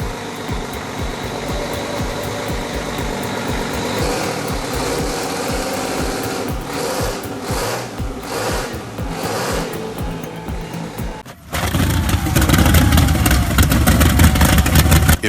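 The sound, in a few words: V6 two-stroke engine starting and running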